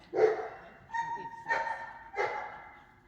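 A dog barks and yips during weave pole training, giving four separate sharp calls at close range with short pauses between them, and no one speaking over the barks.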